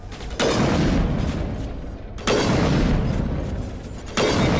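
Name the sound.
sniper rifle shots in a space RPG video game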